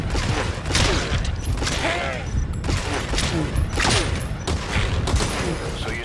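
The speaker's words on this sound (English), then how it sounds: "So your suppressor is worn out. That gun will be as loud as any other now." Loud unsuppressed gunfire in Metal Gear Solid V: The Phantom Pain, bursts of rapid shots repeating in waves throughout, with faint game effects and no clear talk.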